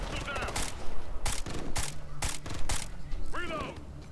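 Gunfire in the Ghost Recon Future Soldier video game: a quick run of sharp, close shots in uneven bursts, with mechanical clicks between them and a voice speaking near the end.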